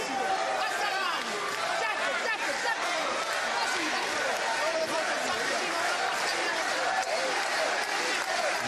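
Boxing arena crowd at a WBA world super middleweight title fight in Italy roaring and cheering steadily throughout, a dense, continuous wash of voices and clapping.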